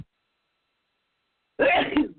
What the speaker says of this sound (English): oh goodness, I think I'm going to sneeze